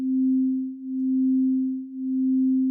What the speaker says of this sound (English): So now I have 2 identical settings on the sine wave.